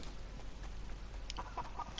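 A chicken in the Fortnite video game gives a few short, clipped clucks toward the end, moderately loud over a low game rumble.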